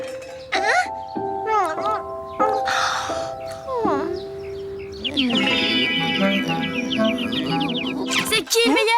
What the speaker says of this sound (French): Va chasser cet oiseau